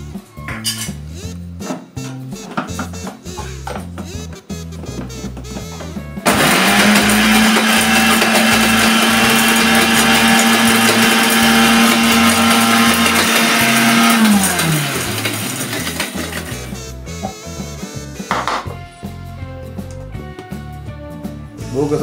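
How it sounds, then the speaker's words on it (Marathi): A kitchen mixer grinder grinds rice for rice laddoo, a loud, steady, high-pitched whirring whine that starts abruptly, runs for about eight seconds, then winds down. Quieter kitchen clatter and faint voices come before and after. "ते मिक्सर लावायचं आहे ना?"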